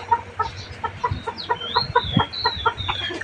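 Freshly released chickens cluck in quick, repeated clucks close by, with a few higher calls drifting over the top and faint outdoor background underneath.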